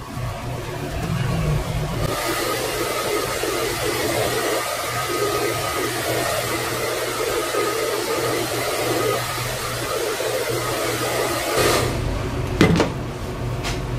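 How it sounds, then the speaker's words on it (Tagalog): A heat blower runs steadily for over ten seconds, drying a photo-hardened silk screen stencil, with a loud continuous whooshing roar and a couple of brief knocks near the end. "So mabilis na pagpapatuyo niyan, as usual, ginagamit natin yung blower."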